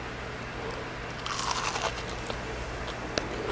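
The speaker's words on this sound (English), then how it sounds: "Wow, that's crunchy." Crunchy panko-fried shrimp bitten close to the mic, giving a burst of crisp crackling crunches and a few sharp snaps afterward, with no talk.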